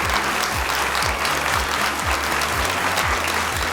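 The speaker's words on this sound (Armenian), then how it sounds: "մեր մասնակիցները ստանում են ամենակարևոր, ամենաանկեղծ, ամենաջերմ ծափահարությունները" Studio audience at a Got Talent Armenia final applauding steadily, a dense continuous wash of clapping throughout with no voices on top.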